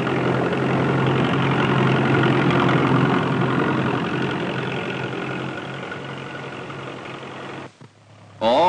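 A 1940s farm tractor pulling harrows over a field, its heavy engine a loud continuous drone that eases slightly before breaking off near the end.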